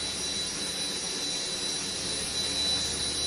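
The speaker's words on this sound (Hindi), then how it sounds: "इस वक्त जो आप तस्वीरों में देख रहे हो वो MiG-29K है और सॉर्टीज लगातार लगा रहा है" A MiG-29K fighter jet engine roars steadily on the aircraft carrier INS Vikramaditya at sea, a constant broadband rush with a thin high whine running through it and no speech.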